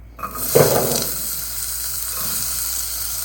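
Onions, beetroot and garlic for tomato soup hit a hot pan with a sudden loud sizzle that settles into a steady, close frying hiss, with no voices.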